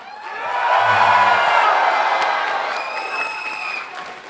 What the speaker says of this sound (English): Okay, one more big round of applause.